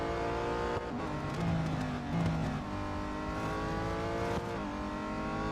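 Race car engines in Real Racing 3 drone and rev steadily throughout, with shifting engine pitch and occasional tire squeal, loud and continuous with no talking.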